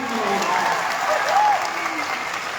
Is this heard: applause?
yes